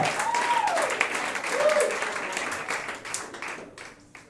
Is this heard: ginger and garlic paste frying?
no